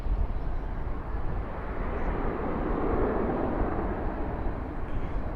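A Boeing 767 airliner, flaps set, departs Dallas/Fort Worth airport at night bound for Austin, its jet roar steady and broadband, swelling a little mid-clip, with no voices.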